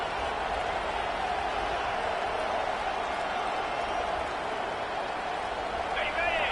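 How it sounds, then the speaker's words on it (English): A large stadium crowd at a Nebraska football game roars in a dense, sustained wall of noise, holding steady loud throughout with no clear pauses. "It is getting loud as this crowd tries to help its defense."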